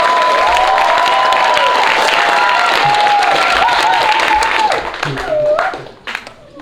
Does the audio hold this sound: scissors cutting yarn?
no